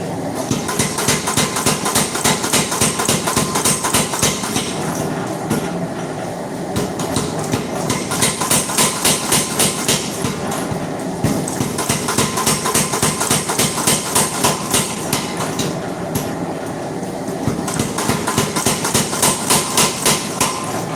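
Hammer heads being forged into spike tomahawks ring out under rapid, loud, rhythmic hammer blows, with dense metallic strikes running in bursts and a few short pauses.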